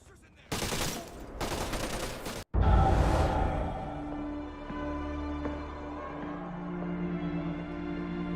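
Sustained automatic gunfire in the video game Splinter Cell Conviction, two loud bursts followed by a heavy blast, then a lingering rumble with ringing tones beneath faint voices.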